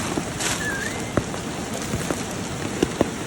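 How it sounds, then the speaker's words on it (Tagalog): Steady rain pours down outdoors during mushroom picking, a dense, even hiss of drops on surfaces with a few sharper drips and taps scattered through, no talking. "Kahit umuulan."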